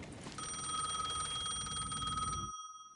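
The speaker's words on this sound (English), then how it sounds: "The payphone was ringing again." A payphone in the video game Alan Wake 2 rings with a steady, bright electronic trill that runs for about two seconds and then cuts off abruptly, with no voices.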